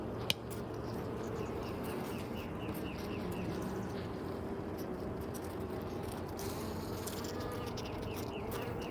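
A steady, dense buzzing of many honeybees close by at a hive during a solar eclipse, continuous and even throughout with a faint hum underneath.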